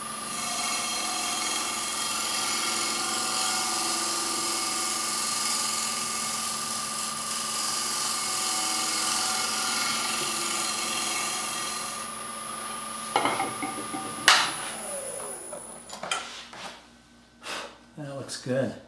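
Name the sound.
wood lathe shear scraping a wooden kuksa cup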